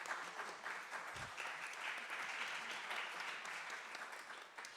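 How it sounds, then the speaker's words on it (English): A conference audience at a school food panel gives sustained, steady applause throughout, moderately distant and even in level. "Can you please give them a round of applause?"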